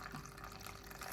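Water pours in a brief steady stream into a bowl of flour for Bajan bakes batter, a soft continuous splashing trickle heard alone.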